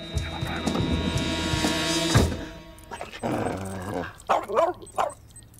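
A dog barks repeatedly and loudly at close range, a rapid run of barks followed by a few scattered, separate yelps.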